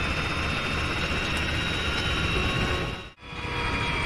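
A game helicopter arriving to pick up a team, a loud, continuous rotor and engine roar filling the scene, briefly cutting out near the end before resuming.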